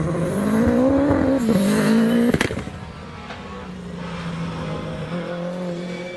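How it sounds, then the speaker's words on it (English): A high-revving 16-valve Peugeot engine in a hillclimb racing car screams through the gears close by, pitch climbing then dropping, before fading into a more distant drone. "Listen to the unmistakable sound of that 16 valve Peugeot engine, sounds terrific."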